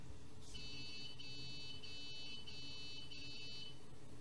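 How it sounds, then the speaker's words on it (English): A uArm robot arm gives five quick beeps in a row, faint high-pitched electronic tones with very short gaps, over a low background hum. "And there you go, 5 beeps with very little time in between."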